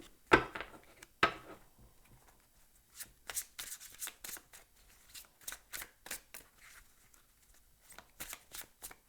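Tarot cards are shuffled by hand in a quiet room, with two sharp riffles near the start followed by a run of soft, irregular slides and flicks of cards being mixed close by.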